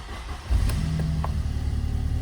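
A 1991 Volkswagen Corrado G60 cranks briefly, then its engine catches and settles into a steady, close idle.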